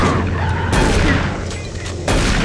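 Gunfire in the video game Doom 3: loud bursts of shots and booming blasts over a dense, noisy game soundtrack, with a short drop between volleys.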